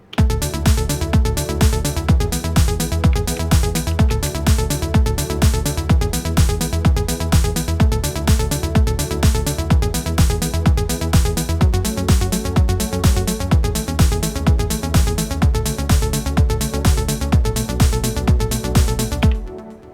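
A remake of a track programmed on an Elektron Digitakt, a steady four-on-the-floor electronic track with pounding kick, bright repeating synth patterns and a filter opened almost fully, loud and continuous with no talking.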